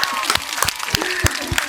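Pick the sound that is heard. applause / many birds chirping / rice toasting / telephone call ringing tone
applause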